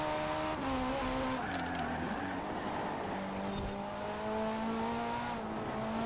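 A TVR in Forza Horizon 4 drones along with a steady engine tone that shifts pitch through gear changes, with tires squealing at moments, continuous and loud with no talk.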